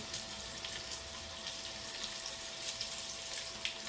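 Small onions frying in a pan over fairly high heat, giving a soft, steady sizzle with scattered faint crackles, quiet and close.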